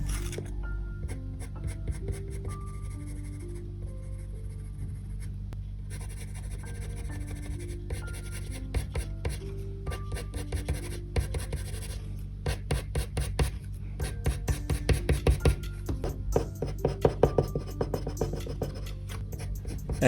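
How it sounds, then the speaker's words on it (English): A 6B pencil shading hair on drawing paper, with quick repeated scratchy strokes that come close and grow denser and louder toward the end, alongside faint background music. "I'm using the same kind of pencil strokes for the whole drawing"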